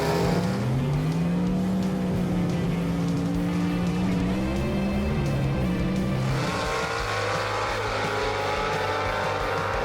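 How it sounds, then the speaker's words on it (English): Drag racing gasser car making a run on a strip, its loud engine roaring and revving with rising pitch sweeps, then settling into a steady drone near the end, continuous with no talk. "And Jerry Birch clicks off another good run, so he moves on another round"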